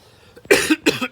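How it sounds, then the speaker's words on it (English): Two quick, close throat-clearing coughs in succession, loud against a quiet room. "Clear my throat."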